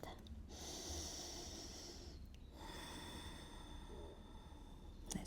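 A long, deep, audible breath drawn in and slowly released during a floor-based yoga stretch, close and steady, with a brief pause partway through and no words spoken.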